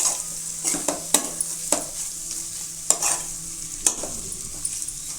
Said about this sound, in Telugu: ఇప్పుడు ఒక టీ స్పూన్ ధనియా పౌడర్ అయితే వేసుకోవాలండి వేసుకొని ఒకసారి కలుపుకొని